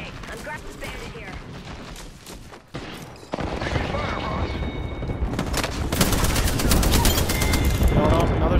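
Chaotic gunfire in an Apex Legends firefight, dense overlapping shots and bursts with impacts, growing louder and busier after a brief lull, with game effects layered throughout.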